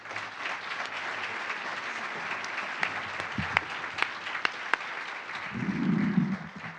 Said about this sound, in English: would you please join me in a huge round of applause for an amazing team?